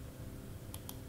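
Two quick, light clicks of keys on a computer keyboard sound close together near the end of a short, quiet moment.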